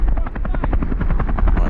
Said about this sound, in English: Alright, let's land that chopper.